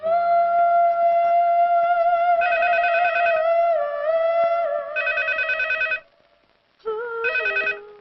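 A phone ringtone plays a steady electronic tone broken by repeated trilling bursts of ringing, then a brief pause and another trill.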